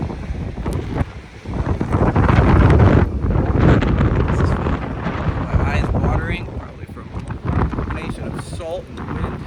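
Strong wind gusts across a snow-covered beach on the Texas Gulf Coast at Galveston during a blizzard, a steady loud roar buffeting the microphone throughout with a brief lull near the start.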